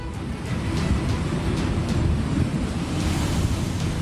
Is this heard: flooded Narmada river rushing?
yes